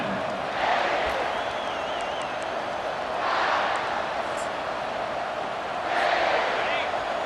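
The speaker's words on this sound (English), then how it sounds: "This crowd bringing the energy and noise early" Stadium crowd noise from the College Football 25 video game: a steady roar that swells loudly three times, near 1, 3.5 and 6 seconds, with no talk over it.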